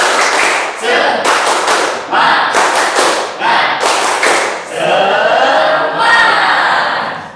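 A classroom group claps together in a quick rhythmic cheer pattern, several bursts of synchronized claps separated by brief pauses, loud and close, with voices mixed in.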